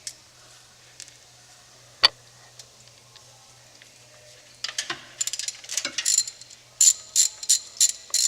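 Bolts on a Miata water pump are loosened with a hand ratchet, close and fairly quiet: a few sparse clicks and knocks at first, then quick runs of ratcheting clicks repeating in short bursts toward the end.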